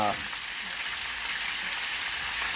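Chicken pan-fries with a loud, steady sizzle and spattering hiss, close and continuous, with no pauses.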